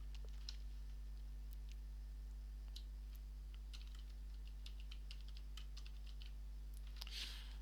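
Light typing on a computer keyboard, scattered soft key clicks in an irregular rhythm over a steady electrical hum, faint and close, ending in a brief cluster of keystrokes.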